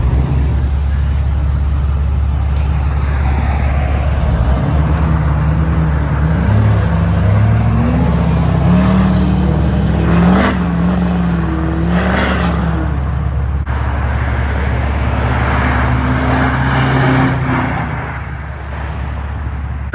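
A Chevy Cateye pickup truck is driven from inside the cab, with a steady loud low engine drone and rising whine as it accelerates, and people talking over the noise.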